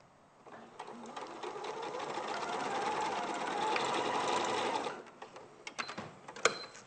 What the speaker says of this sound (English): put the presser foot back down and just sew the rest of that seam